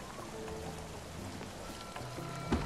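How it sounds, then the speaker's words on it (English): Steady rain in the Spiritfarer video game, a soft continuous patter of drops under faint background music tones, with one brief louder thump at the end. "Oh, this rain. Will it ever stop?"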